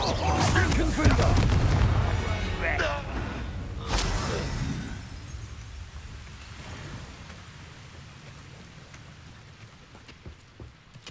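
Confringo spell blasts go off in Hogwarts Legacy, with sharp explosive cracks and booms near the start and shattering debris that trail into a fading rumble.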